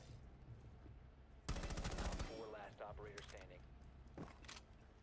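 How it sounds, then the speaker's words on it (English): Call of Duty gunfire rips out in a sudden rapid burst of shots, followed by scattered single cracks and a later short volley, loud against a quieter game background with voices around. "I can shoot in the dead corpse for so long."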